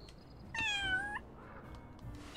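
Pet cat meowing in the Little Kitty, Big City video game: one clear, drawn-out meow about half a second long, rising then falling. It stands alone over a quiet room background with a faint steady tone.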